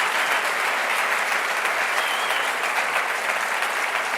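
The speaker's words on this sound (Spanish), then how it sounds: "Un aplauso, por favor, a la gente que está en Valencia ayudando" An audience at an economic forum in Andorra breaks into sustained, loud applause for the volunteers helping in Valencia, with dense, even clapping holding steady throughout.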